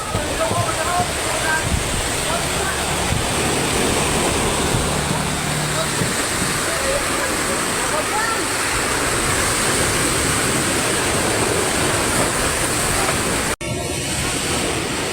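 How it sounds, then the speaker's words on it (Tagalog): Loud, continuous roar of heavy surf and wind, waves crashing and churning close by, with faint voices buried under the noise. "Talagang napakalalaki na ng alon"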